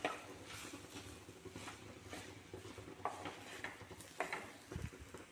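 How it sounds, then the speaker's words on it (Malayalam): Jackfruit and coconut dish stirred in a pan, faint intermittent scraping and clinking of a spoon against the pan, close and quiet. "ഇപ്പോൾ ഒന്ന് നന്നായി ഇളക്കി സെറ്റാക്കാം."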